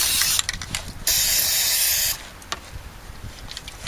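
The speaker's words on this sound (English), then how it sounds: "I have no idea how far the spray went." Steady hissing bursts of an aerosol can spraying Fluid Film rust-proofing into a car's rocker panel, a short one then a long continuous blast, with faint handling noises afterward.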